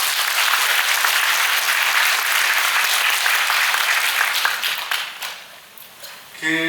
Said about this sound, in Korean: 박수 한 번만 부탁드릴게요.